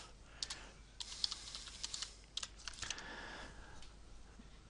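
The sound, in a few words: typing a VLOOKUP formula on a computer keyboard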